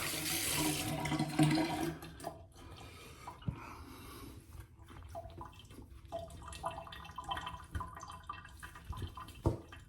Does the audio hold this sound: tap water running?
yes